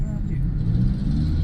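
Heavy northbound road traffic on Commonwealth, a dense low rumble of car and bus engines idling and creeping along, loud and continuous throughout.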